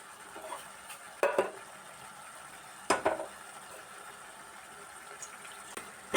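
Meat being sautéed in a handi with tomato added, giving a low simmering bubble under a few sharp clanks and scrapes of a ladle against the pot, spaced a couple of seconds apart, with no talking.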